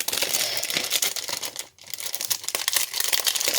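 Plastic packaging around a clear stamp is pulled and crinkled open, giving continuous loud, close crackling and rustling with a brief pause partway through before the crumpling resumes.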